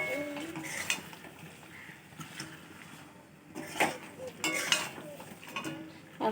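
A spoon scrapes and clinks against a pot as meat is stirred and slow-fried over a low flame, with irregular, fairly close knocks and rattles over a faint frying background and no talking.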